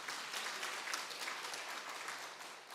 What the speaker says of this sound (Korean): 박수해 주셔서 감사합니다